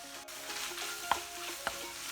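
A ground meat sauce is being mixed in a pan over low-medium heat, with a soft steady sizzle and a couple of distinct scraping stirs from a spoon against the pan.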